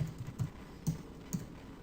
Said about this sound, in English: So we'll go ahead and keep typing.